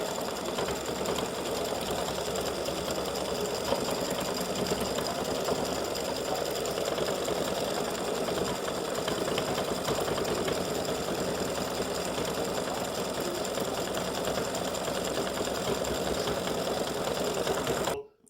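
A sewing machine stitching freestanding lace St Patrick's Day hat earrings runs in a steady, dense mechanical whir with fast rhythmic needle clatter, loud and close, holding unbroken for about eighteen seconds before stopping abruptly.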